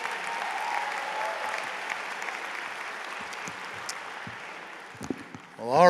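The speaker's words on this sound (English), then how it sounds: "Let's give another nice round of applause out to all of our presenters so far today" Sustained applause from a large audience at a high school graduation ceremony fills the hall steadily, slowly tapering, with a brief voice and a short burst of sound at the very end.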